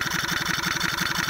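An old engine putters at a slow, steady idle, its low exhaust pulses beating evenly and close by with no talk over it.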